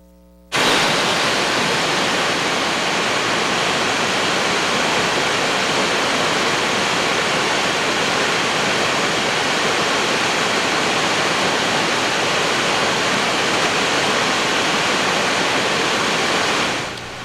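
Ithaca Falls roaring after drought recovery, a dense unbroken wash of falling water heard close and loud for the whole stretch, no voices.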